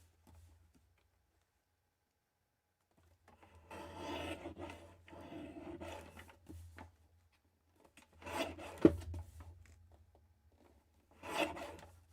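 Card paper is trimmed by hand in a few short, soft scraping passes. The passes are separated by silence, quiet and close, with no talk.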